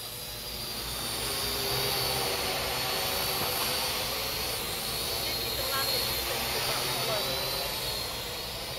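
A Parrot AR Drone 2.0 quadcopter hovers outdoors near trees, its rotors giving a steady, loud buzzing whir that holds without a break.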